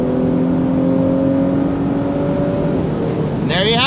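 An Audi B9 S4 fitted with a performance intercooler pulls hard through the gears, a loud steady engine drone that shifts pitch as the gear changes near the end.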